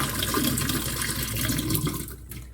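Rinse water is poured off food in a continuous splashing, gushing stream that is moderately loud and close, then tapers near the end. No voices are heard.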